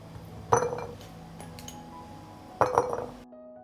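Clean, washed glass jars clink together twice, bright ringing knocks about two seconds apart, fairly close, while garlic cloves go into each jar in a home kitchen.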